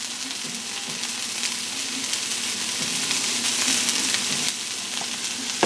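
Seasoned vegetables frying in a pan, a steady close hiss and crackle of sizzling with faint stirring knocks, no talking over it.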